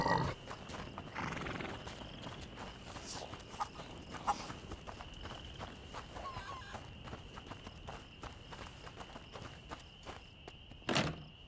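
Hooves clip-clop and a horse gives short snorts and a brief whinny in the video game A Plague Tale: Innocence, set against steady ambient background, with a sharper burst near the end.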